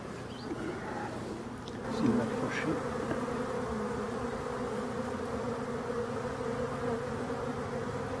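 Asian hornets and honeybees buzz steadily around a beehive, a dense continuous drone close to the microphone with a brief louder swell near the start, no talk over it.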